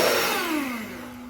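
An electric beater whips cream for mango ice cream, its motor whine sliding steadily downward as it winds down, close and alone.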